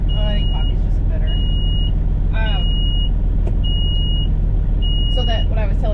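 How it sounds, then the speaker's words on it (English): Repeated high electronic beeps from a truck's low air pressure warning alarm sound in steady intervals over a loud idling engine rumble, with faint voices nearby. "it's beeping because there's not enough air pressure in the tanks"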